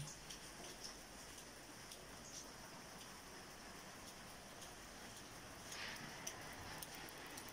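Steady rain falling outdoors on Menorca, Spain, a constant soft hiss of drops on surfaces with occasional louder patters, no talking.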